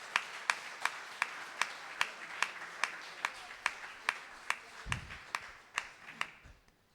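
A church congregation at a Sunday service claps in a steady, evenly spaced rhythm, the sharp claps repeating about twice a second and fading toward the end, fairly faint overall.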